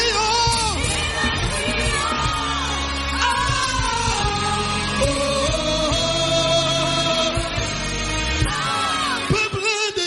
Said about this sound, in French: Cris de joie